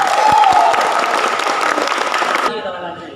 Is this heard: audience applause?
yes